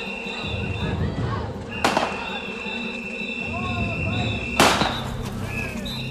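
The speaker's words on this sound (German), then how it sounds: "bloß dass wir noch ein paar mehr Böller machen hinten in der Ecke" Firecrackers going off in a corner near mounted police horses, with two sharp, loud bangs a few seconds apart over a steady background drone and high whistling tones, and a voice talking in the background.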